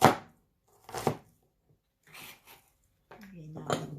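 A knife slices through onion pieces on a board for homemade onion cough and cold syrup, giving a few separate chopping thunks spread across a quiet stretch, with a voice speaking briefly near the end.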